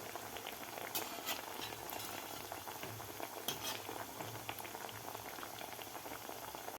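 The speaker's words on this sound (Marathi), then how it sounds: "आता आपल्याला व्यवस्थित हे मिडियम गॅसवर व्यवस्थित तळून घ्यायचे आहेत" Chana dal ladoos deep frying in oil in a kadai over a medium gas flame give a steady, dense bubbling sizzle throughout, with a few sharper crackles and pops rising above the constant hiss.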